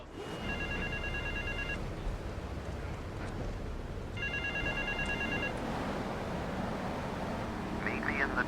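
Two distinct rings of a payphone in a park from GTA 3 cut through a steady wash of traffic and city background, a short pause between them.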